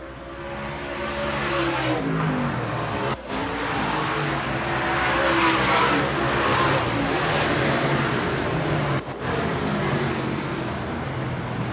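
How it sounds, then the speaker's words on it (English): Late model sportsman race cars roar around a track at a Keystone Cup feature, a loud continuous engine drone that swells and fades as cars pass, with two brief dips in the noise. "Jacob Piper fighting that wheel, trying to get around the 44 of Ralph Naylor"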